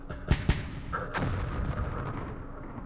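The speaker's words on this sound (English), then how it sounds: "Oh, lots of mortars." Mortar fire in the wargame Campaign Series Middle East: two sharp close booms in quick succession, then a heavier blast rolling into a long rumbling decay.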